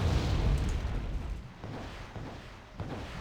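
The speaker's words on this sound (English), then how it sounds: "center is being blanketed with rockets" Rocket barrage from Wargame: Red Dragon, a heavy low rumbling boom at the start that decays into scattered distant thuds and crackles.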